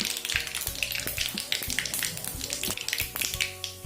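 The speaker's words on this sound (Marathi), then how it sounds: "तेल आपलं गरम झालंय, आपण त्यामध्ये मोहरी घालूया।" Mustard seeds and cumin splutter in hot oil over a low flame for Nagpur-style Savji dal kanda, making a continuous close sizzle with rapid scattered pops and crackles throughout.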